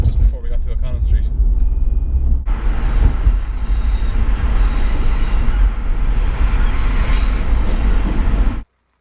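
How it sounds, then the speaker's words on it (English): A steam train crosses a bridge with a loud, continuous rumble and rolling noise that stays heavy and close before stopping abruptly; a voice is audible over it. "we had the steam train going across the bridge"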